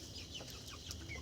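Broiler chickens on a poultry farm, birds weighing around two kilos, clucking and calling in a steady close chorus with no talk over them.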